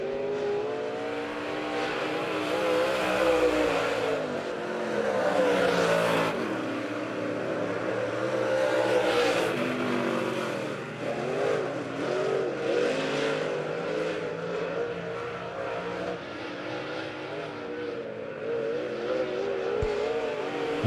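B-Mod race cars roar down the backstretch at Monett Motor Speedway, engines revving and surging in waves as they pass, loud and continuous with no talk over them.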